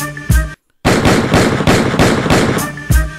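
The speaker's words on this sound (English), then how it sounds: "Shots fired, and I'ma bust first. They shooting." Rapid bursts of gunfire-like sound effects in a hip-hop track, loud and close, repeating in a steady rhythm after a brief silent gap, with no voice over them.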